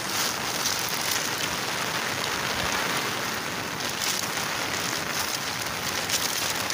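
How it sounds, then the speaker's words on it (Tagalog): Steady rain pours down on a rural farm, a dense continuous hiss of drops drumming on surfaces, even and unbroken throughout with no voices. "Siguro hihintayin ko na lang na titila yung ulan."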